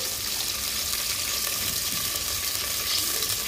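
Water poured into a hot pan of fried onions sets off a loud, steady, unbroken sizzle that holds level throughout.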